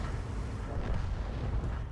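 A tank gun fires a shell in World of Tanks, a heavy, rumbling explosive boom with a long, dense low-end roar filling the short moment, no speech over it.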